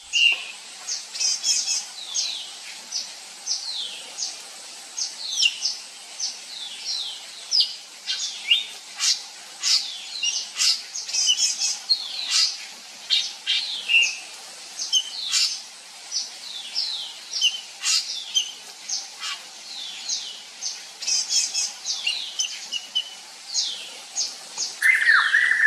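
A blue pitta calls in a Laos rainforest: repeated short, bright chirps and whistled notes in irregular bursts. The calls sound fairly close over a quiet forest background, with no speech.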